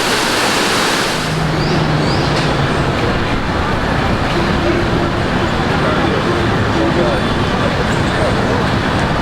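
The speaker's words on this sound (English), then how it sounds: "the water just flows right here, right there, and then there's the big waterfall" Rushing water from the Nauyaka waterfall in Costa Rica, a loud, steady broadband roar filling the whole stretch without pause.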